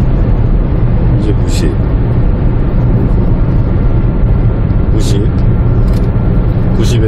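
A 2013 Chevrolet Spark coasting at highway speed with the accelerator released, giving a steady, loud cabin drone of road and engine noise that holds evenly throughout, with a few faint higher hisses passing by.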